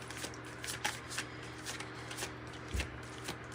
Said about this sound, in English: Let's get another card and see what else we've got.